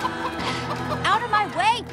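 Chickens cluck in the video game Minecraft: Story Mode, several close, sharp bursts with rising and falling calls, overlapping a voice speaking over a low background tone.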